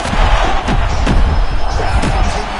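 A crowd in the UFC video game roars and surges continuously while punches thud and slam at close range, the noise swelling with each heavy blow.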